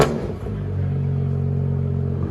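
BMW M3 with a 3.0-litre twin-turbo inline-six idling, a steady low rumbling drone holding even and close throughout, with a slight initial blip at the start.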